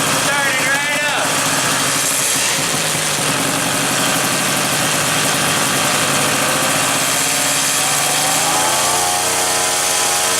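A Motobecane moped engine idling just after starting, a loud, buzzy, steady small two-stroke putter close to the microphone, running continuously with slight shifts in pitch.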